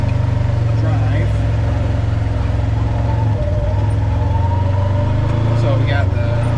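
A Polaris RZR side-by-side engine drones steadily while driving, a loud continuous low rumble with a constant hum throughout.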